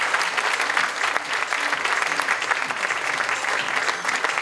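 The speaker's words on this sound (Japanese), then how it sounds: "大きな拍手をお送りください。" Steady, dense applause from a large crowd greeting the invited guest runners at the opening ceremony of the Nagano Marathon, a continuous wash of many hands clapping together that holds at an even level throughout.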